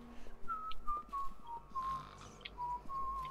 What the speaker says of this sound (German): Gepfeife höre ich hier noch.